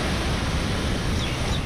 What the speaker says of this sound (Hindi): लहरें खतरनाक तरीके से ऊंची उठने लगी हैं